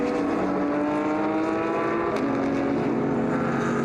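Historic race cars at the Red Bull Ring sweep through a corner as a field, their engines droning loud and continuous with layered, overlapping revs and a sustained roar that barely lets up.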